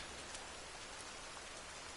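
Steady rain falling in The Forest survival video game, a dense, even hiss of drops that fills the whole two seconds with no talking.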